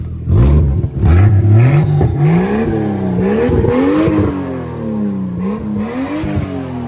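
A Toyota Supra engine revs hard nearby, climbing and dropping in repeated loud pulls with a raspy whir, no talk over it.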